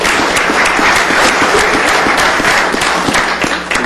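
A round of applause fills a county commissioners court meeting, dense sustained clapping from a room full of people that stays loud throughout and eases slightly at the end.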